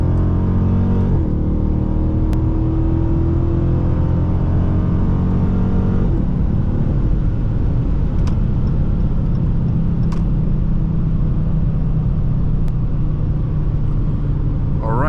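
A 2021 Dodge Charger R/T launches from a full stop to 60 mph, its engine roaring loud and close with rising revs broken by distinct gear-shift breaks, heavy low rumble throughout.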